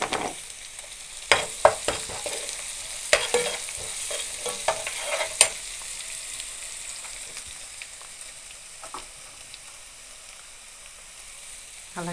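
Onions fry in oil with turmeric for a fish curry, giving a continuous sizzle broken by several sharp scrapes and knocks of a spoon against the pan, close up and without any voices.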